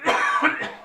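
A man's cough, two or three close, rough bursts in under a second, loud and near to the microphone with nothing else around it.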